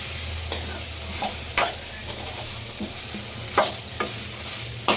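Cooked cowpeas and greens stirred in a pan over a gentle sizzle, with a spoon scraping and knocking against the pan every second or so, close up, with no talking.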